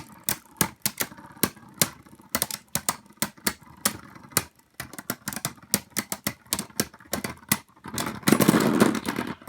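A Beyblade Burst spinning top launched into a stadium, a rapid, steady train of sharp clicking ticks from the spinning top scraping the arena, close and loud, with a rougher whirring burst near the end and no voices.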